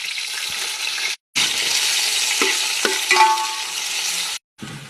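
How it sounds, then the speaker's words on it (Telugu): Sliced onion and coriander frying in hot oil, giving a loud, bright, steady sizzle with brief scrapes of stirring, and two short breaks of silence in between. "ఇప్పుడైతే నూనె పోసుకోవాలి. పోసుకున్న ఉల్లిగడ్డ వేసుకోవాలి. కొంచెం కొత్తిమీర కూడా వేసుకోవాలి."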